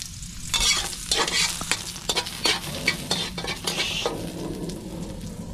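Garlic sautéing in a hot pan crackles and sizzles up close, with rapid scraping stirs of a spatula repeating through the whole stretch and no voices over it.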